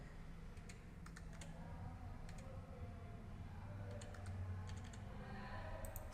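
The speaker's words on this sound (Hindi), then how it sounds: "यहाँ पर हमें डेट टाइप करनी है" Fingers tap out a date on a computer keyboard in quick, light clusters of clicks with short pauses between them, quiet and close over a low room hum, with no speech.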